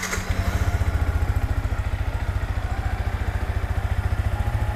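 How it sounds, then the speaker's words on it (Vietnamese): An MT-15 motorcycle engine sputters to life and settles into a loud, fast, even putter that runs steadily close by. "bây giờ mình sẽ nổ máy nha các bạn"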